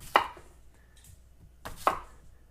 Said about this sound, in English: cut it into, I don't know, 1/2-inch slices, and then do it one more time